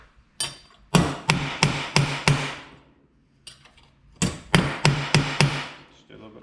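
A hammer pounds a brake line held in a vise during rear brake plumbing work, in two close, loud bursts of five or six rapid, ringing blows separated by a brief pause.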